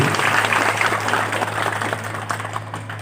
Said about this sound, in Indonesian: Tepuk tangan untuk para santri.